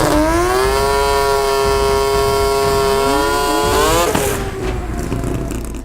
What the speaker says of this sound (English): the high RPM sound of the 20B all-motor Datsun Varon Racing start his burnout